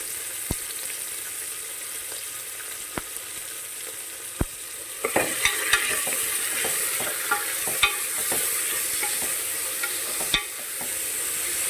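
Sliced onions fry in a pan for a vegetable kurma, a steady sizzle with scattered sharp crackles and pops, close and continuous, with no voices.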